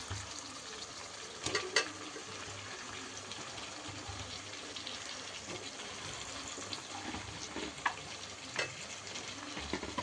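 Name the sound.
tomatoes sautéed with onions in a pan for chicken gravy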